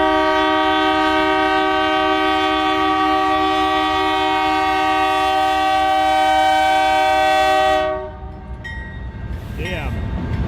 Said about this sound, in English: I had no idea he was going to use the horn.